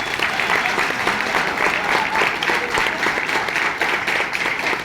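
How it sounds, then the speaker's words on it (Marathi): An audience at a gathering claps loudly and steadily, a dense sustained applause from a crowd that stays even throughout. "जोरदार परत एकदा टाळ्या त्यांच्यासाठी वाजवा"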